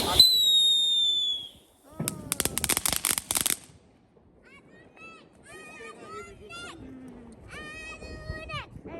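New Year fireworks and firecrackers in the Netherlands: a burst of rapid crackling bangs after a high whistling rocket, then scattered pops and whistles, with people talking and calling out in between.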